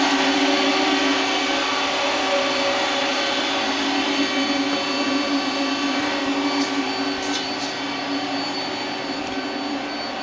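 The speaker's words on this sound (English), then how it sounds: "So we're going to run the spindles, and then we'll jog the axes around." A 1995 Citizen M20 CNC Swiss lathe runs its main spindle at 1,000 RPM, giving a loud, steady mechanical whir with layered tonal hums, plus a few faint clicks partway through.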